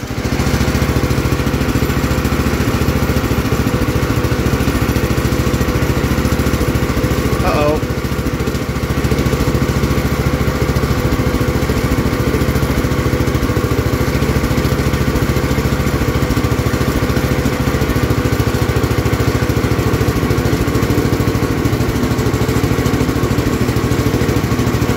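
The engine of an old Gravely 814 garden tractor, left outside for years, runs loud and close at a steady drone with the PTO engaged, its constant rumble unbroken for about twenty-five seconds.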